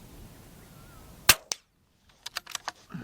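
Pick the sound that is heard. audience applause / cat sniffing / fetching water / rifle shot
rifle shot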